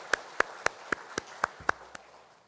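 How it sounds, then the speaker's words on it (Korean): A congregation at a Sunday church service claps in slow, evenly spaced unison beats, about eight sharp claps over two seconds, with the last one softer before it fades. "하나님 앞에 영광의 박수 올려드리겠습니다"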